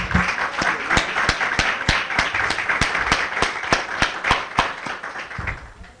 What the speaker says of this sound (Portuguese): Quem é livre aqui, dê uma salva de palmas para o libertador Jesus.